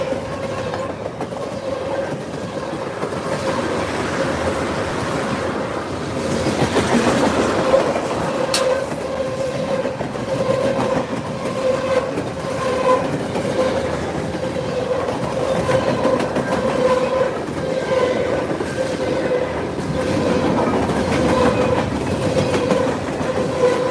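A train with an EMD distributed power unit locomotive rolls past at close range. A continuous rumble carries rhythmic clickety-clack of wagons and a sustained tonal hum, with a brief sharp squeal partway through.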